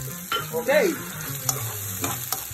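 Onion sautéing in pizza sauce in a pan gives a soft sizzle with a few stirring scrapes, close and fairly quiet, with a brief spoken word over it.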